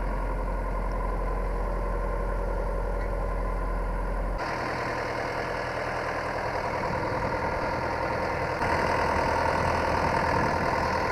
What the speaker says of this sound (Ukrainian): Ходимо першою пониженою передачею, 1200 обертів.